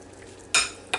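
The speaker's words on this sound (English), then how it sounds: "Now all we've got to do is just stir this together." A spoon scrapes and clinks through a tuna mixture in a bowl for crescent rolls, sounding as two short, close bursts, the second briefer than the first.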